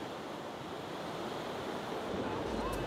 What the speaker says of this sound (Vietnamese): Kết hợp với sóng biển do ảnh hưởng của bão nữa